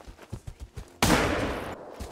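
A hunting video game gunshot: a single loud blast that rings out with a sustained decay, following a series of softer rhythmic thumps.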